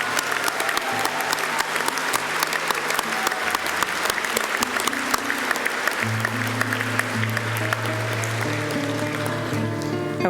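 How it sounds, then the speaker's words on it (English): Graduation ceremony audience at a college applauding graduates, a loud, sustained wash of clapping with a low tonal musical backdrop that swells partway through. "Please applaud our social science graduates."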